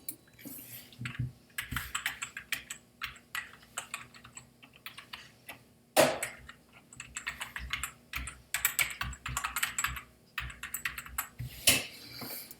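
Keys clatter steadily on a computer keyboard as an email address is typed into a school login page, quick bursts of close, crisp clicks with brief pauses between them.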